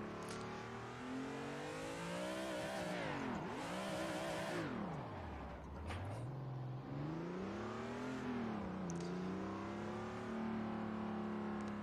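A car drifts in a driving video game on a Spanish server, its engine revving continuously with pitch swooping up and down through repeated slides and throttle changes, loud and steady throughout with no talk.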